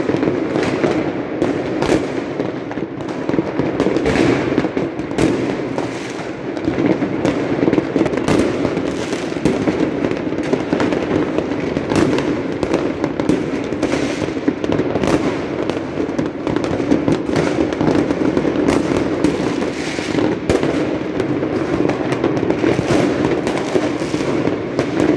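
Fireworks go off from apartment balconies in Durrës to welcome the New Year 2021, a dense, continuous barrage of sharp cracks and bangs at varying distances over a steady background rumble.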